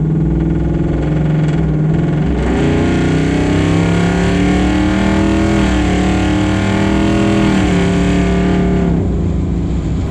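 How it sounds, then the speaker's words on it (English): A custom classic Ford Bronco with a 10-speed automatic cruises at about 80 mph. A loud, steady engine drone rises with a shift partway through, under continuous road and wind rumble. "That 10-speed automatic, we're running about 80 miles an hour, just perfect"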